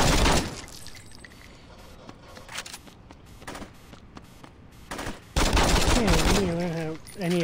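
Gunfire in the Saints Row 2 video game, with a loud burst at the start, then scattered single shots, then a heavy sustained volley. Game voices and effects sit underneath.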